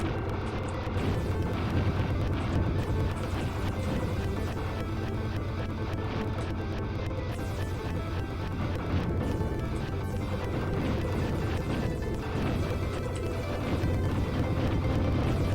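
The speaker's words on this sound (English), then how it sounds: "see how the missiles come out behind me instead of traveling with my ship?" Missiles launch and explode in Tyrian 2000 in a constant barrage of crashes and booms over thick game noise, dense and unbroken throughout with no talk.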